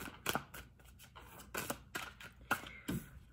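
A deck of tarot cards is shuffled close up in a quiet room, giving soft, repeated riffling and slapping bursts at an uneven rhythm, with no talking.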